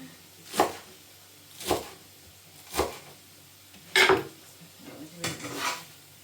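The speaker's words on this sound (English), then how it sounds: "I need to stir that beef." Beef stirred in a warming frying pan, a series of separate metallic scrapes and clanks from a utensil against the pan, spaced about a second apart, close and moderately loud.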